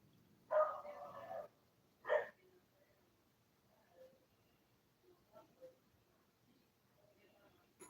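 Dogs at a house in Alabama let out a few sharp barks, two loud ones close together and then fainter yips and whimpers, between stretches of near silence.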